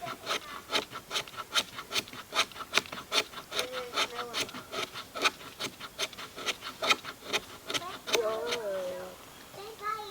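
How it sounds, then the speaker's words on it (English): A knife spine scrapes a fatwood stick planted upright in something solid, making a steady train of about twenty rhythmic rasping strokes close by. A voice comes in briefly near the end. "take the spine of my knife, just start scraping"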